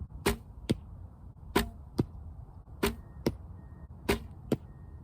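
Arrows are shot at an archery target during a casual practice game, heard as four close, sharp pairs of release and impact, each pair a quick double crack, evenly spaced with no talking.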